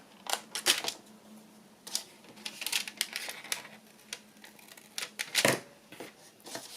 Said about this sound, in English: And then cut that at an angle.